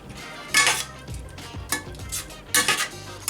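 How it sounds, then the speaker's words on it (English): A spoon mixes a pound of lamb into curry in a pot, with loud close scrapes against the metal, soft wet squelches and occasional clinks arriving in uneven bursts, no speech. "now I'm going to add 1 pound of lamb. Mix it, blend it well,"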